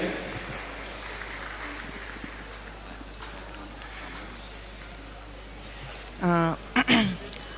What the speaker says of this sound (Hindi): ताजवर शकील के लिए एक बार फिर तालियां बजाइए।